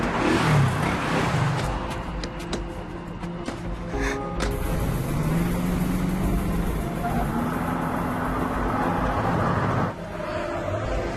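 A car starts and drives off at moderate distance, its engine revving and rumbling steadily for several seconds before a sudden drop near the end.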